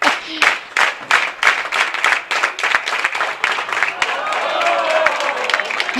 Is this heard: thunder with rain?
no